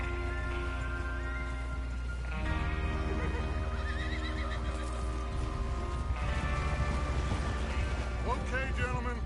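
Horses whinny and neigh several times in Red Dead Redemption 2, over a steady game soundtrack with music and low rumble, some voice-like sounds mixed in.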